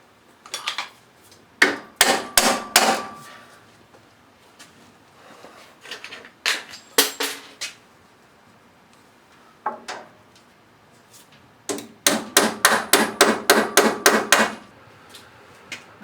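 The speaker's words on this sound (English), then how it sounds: "To keep the hammer away from both the molding and my fingertips, I use a pair of diagonal cutting pliers to just set the nail high in the molding." Sharp hammer strikes drive finishing nails into wall molding for a basement or garage ceiling, arriving in quick bursts of several close, loud blows separated by short pauses, with a rapid run of even taps near the end.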